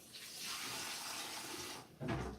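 Water runs from a tap during home brewing of a grape juice mead, a soft steady stream that pauses briefly and then resumes with a fuller splash.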